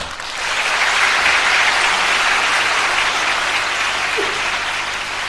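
Lecture audience in Singapore bursts into sustained applause, a dense wash of clapping that swells in after a brief lead-in and holds steady before thinning slightly at the end.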